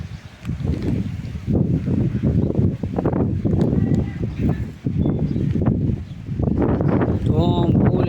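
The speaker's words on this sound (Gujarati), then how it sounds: "ફૂલ જો પવન આવ્યો તાકાતથી" Strong storm wind gusts roar steadily and loudly across a cyclone-hit area, with rustling and a brief bird-like chirp, while someone talks over the continuous blowing throughout.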